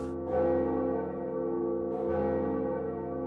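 Bell of Awakening in the Dark Souls video game rings with a deep, resonant toll that swells and sustains, then strikes again partway through and hangs in a long metallic hum.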